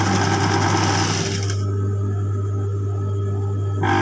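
Close and loud, a sewing machine runs a seam tight along the edge of a folded fabric line, its motor humming in one continuous, even drone that never pauses.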